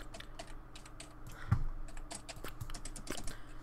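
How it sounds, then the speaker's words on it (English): Rapid clattering keystrokes on a computer keyboard during a Warface gaming session, steady close taps with a few louder strikes, no voices. "I just gotta type a lot to make it sound like I'm turning in cheats"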